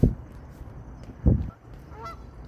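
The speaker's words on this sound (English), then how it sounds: "the geese are honking at us." Geese honk by a pier on a Chicago city walk, two loud, close calls about a second apart over outdoor background noise, with a fainter bird call near the end.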